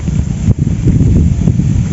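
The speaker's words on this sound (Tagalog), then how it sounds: "Lakas pa ng hangin." Steady low roar of strong wind buffeting the microphone, constant throughout with a brief dip partway, no voices.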